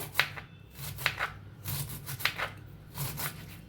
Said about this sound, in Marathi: आता आपण कापून घेऊया ह्याला असं कापून घ्या लांबकुळं लांबकुळं